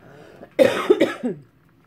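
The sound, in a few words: cough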